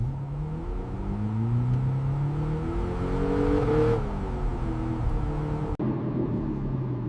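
A restored 1968 Toyota 2000GT engine revs up with rising and falling pitch, a smooth steady drone near and moderately loud, ending with a brief click.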